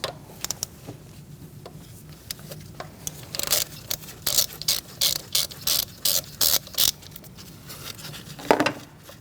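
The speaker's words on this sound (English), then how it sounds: "Now we're going to use a 10mm socket and undo that bolt." A socket ratchet with a 10mm socket undoing a bolt on the ignition coil area of a 2016-2019 Chevrolet Cruze 1.4L, giving repeated sharp clicking bursts in a steady back-and-forth rhythm, close and clear.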